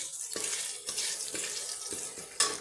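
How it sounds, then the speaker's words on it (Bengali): Ginger fries lightly in hot oil alongside fenugreek and black mustard seed tempering for a bottle gourd dish. A soft steady sizzle is broken by several stirring scrapes, and a sharper clink comes near the end. "আদাটা আমি এই তরকারির জন্য খুব বেশি ভাজবো না খুব সামান্য ভাজবো"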